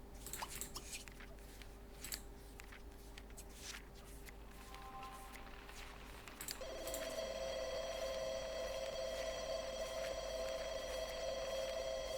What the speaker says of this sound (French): On va répondre au téléphone.